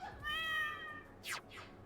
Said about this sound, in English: Where is my kitty?